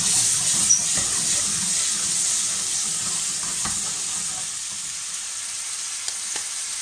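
Prawns sautéing in a pan produce a continuous, moderately loud sizzle and hiss with faint stirring scrapes and occasional light pops, close and without talk.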